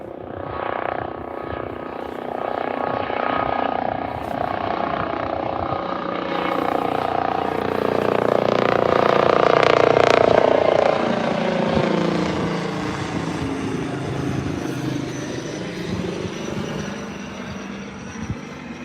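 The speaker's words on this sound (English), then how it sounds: "I think it's a police helicopter." A police helicopter coming in to land at Birmingham Airport, its rotor and engine drone swelling gradually to a loud peak midway, then easing off as it settles, with no talk over it.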